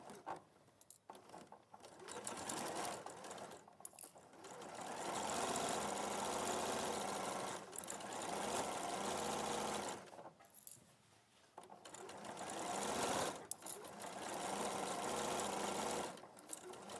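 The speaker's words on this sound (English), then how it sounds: "I'm just going to sew the other side as well" A sewing machine stitches fabric in long steady runs separated by brief pauses, a close, even mechanical whir throughout.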